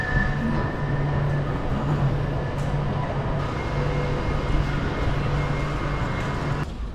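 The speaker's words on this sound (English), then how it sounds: "So this is actually a really, really old train station" Steady rumble and low hum at an old train station from around 1919 in Coventry, England, continuous and fairly loud throughout with no talking.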